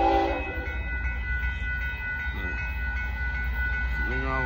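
A northbound Union Pacific limestone freight train rolls past a road crossing in Austin, Texas, its loud rumble steady throughout and the horn sounding in several blasts up close, with a long blast near the start and another at the end.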